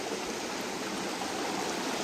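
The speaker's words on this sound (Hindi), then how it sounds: "पानी का आवाज़ थोड़ा बहुत ज़्यादा है।" Loud, continuous rushing of a flowing river, dense broadband water noise filling the scene steadily and close by, with no voices.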